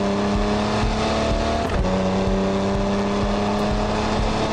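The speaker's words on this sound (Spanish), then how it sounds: "estando concentrados en la conducción de nuestro auto Monster 4x4 todoterreno" Game engine of an off-road Monster 4x4 truck droning steadily and loud throughout, a continuous motor hum with slight pitch shifts as it drives, no voices.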